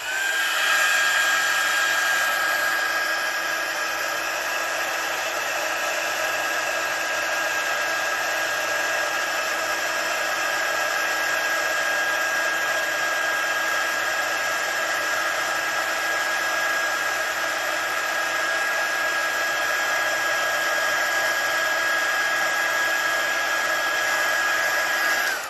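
A heat tool blows steadily for the whole stretch, heating embossing powder on a stamped card for a men's card; a loud, continuous airy whir with a fixed whine, close and alone, with no talk.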